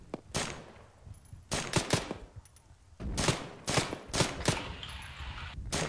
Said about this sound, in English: Got the friendly mortar firing